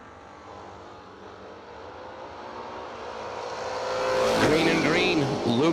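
Drag race cars, a Mustang among them, launch at a fall racing event, engine roar building from a distant rumble to a loud revving surge as they pull away, with an announcer's voice faintly underneath.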